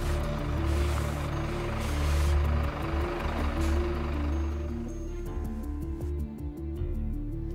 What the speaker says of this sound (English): Now let's consider stopping a fully laden truck.